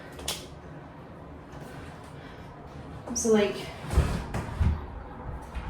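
A bathroom door in a rental is pushed and forced shut but won't close fully, giving creaks and a couple of thuds and knocks, with a person talking nearby.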